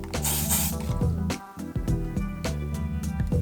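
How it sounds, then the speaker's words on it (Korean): Hairspray hisses in short bursts onto the top of a fringe while hair is set with the fingers for a bun style, the sprays coming close and loud between brief pauses. "앞머리 윗부분에 스프레이를 손가락으로 결을 잡아가지고 이렇게 고정을 해줍니다"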